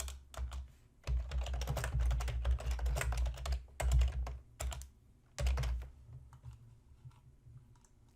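Typing on a computer keyboard: busy bursts of clicking keystrokes, close and clear, broken by short pauses and thinning to sparse taps toward the end, with a low steady hum underneath.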